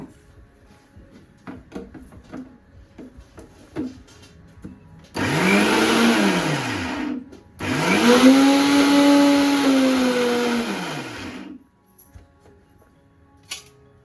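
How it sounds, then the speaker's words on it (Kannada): A kitchen mixer grinder grinds cooked chana dal into a thick filling for holige in two loud whirring bursts, a short run followed by a longer one, with quiet handling noises before and after. "ಇದನ್ನೀಗ ನಾವು ಮಿಕ್ಸರ್ ಜಾರಿಗೆ ಹಾಕ್ಕೊಂಡು ರುಬ್ಕೊ ರುಬ್ಕೊಳ್ತಾ ಇದ್ದೀನಿ"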